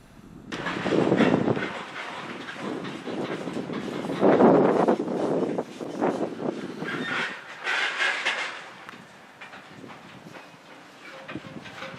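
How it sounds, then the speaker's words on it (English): A long grain train rumbles past close by, steady wheel clatter and rolling noise with wind buffeting, swelling and easing over the stretch. "we got to watch as the end of the grain train rolled out from underneath my GoPro"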